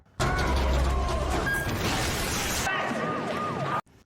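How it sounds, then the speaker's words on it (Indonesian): A police siren wails loudly and continuously, its pitch sweeping up and down, with a rough mechanical rumble underneath before it cuts off abruptly. "terdengar sirine menandakan mobil polisi datang"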